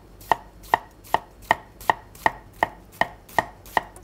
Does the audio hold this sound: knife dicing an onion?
yes